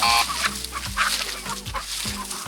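Several chickens being herded into a mini paddock on a farm cluck in short, repeated bursts close by, with a low steady engine hum underneath.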